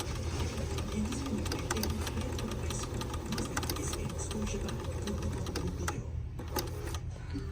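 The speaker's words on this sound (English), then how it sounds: "then the machine starts stitching perfectly fine" A Bernina 1230 sewing machine stitching, a continuous fast mechanical chatter with rapid needle ticks over a motor hum, steady and close, fading to a few isolated clicks near the end.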